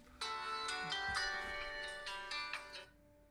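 A mobile phone plays a bright, melodic ringtone of quick repeated tone bursts for about three seconds, fairly quiet and alone, cutting off abruptly.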